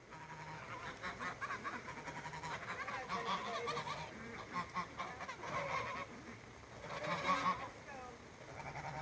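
Ducks call repeatedly with honking, quacking cries at a moderate distance, the calls overlapping in bursts over soft background noise and faint voices.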